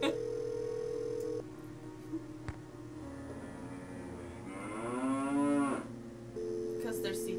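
A cow moos over a phone line in a Nancy Drew video game, one drawn-out low bellow rising and falling, set against a steady electronic tone.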